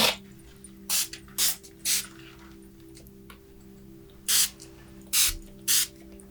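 A spray bottle gives several short, soft misting pumps during a soft-spoken ASMR session, spaced irregularly, close by over a faint background hum.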